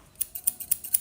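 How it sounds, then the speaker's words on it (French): Scissors snip a wig's bangs in a quick series of five or six crisp metallic cuts, close and clear with no talking. "ciseaux"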